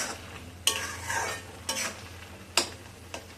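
Grated carrot for gajar halwa is stirred and sautéed in a pan, with repeated scraping strokes of a spoon over a soft, steady sizzle, close and without talk.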